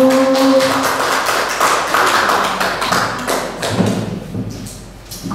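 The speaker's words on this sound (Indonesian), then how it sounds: "Tepuk tangan Bapak Ibu" An audience of adults applauds, loud dense clapping that starts strong and gradually thins out toward the end, with a brief tone at the start.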